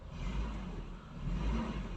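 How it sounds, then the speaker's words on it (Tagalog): A stock car's engine idles with a steady, close, low rumble and slight rises in revs over about two seconds, with no voices. "Pakinggan niyo yung makina. Solid pa."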